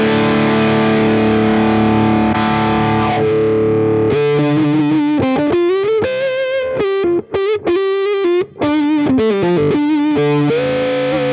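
Electric guitar runs through an Xotic wah pedal with the treadle fixed in place, high-gain distortion on the bridge pickup, loud sustained chords followed by a fast, choppy lead riff with brief stops.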